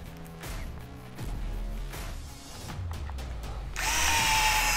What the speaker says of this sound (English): then it's a 3mm hex screwdriver.